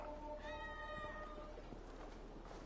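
A big cat in the Assassin's Creed Valhalla video game gives a brief, tonal snarling yowl that rises and fades within about a second, set against steady in-game ambience with no talking.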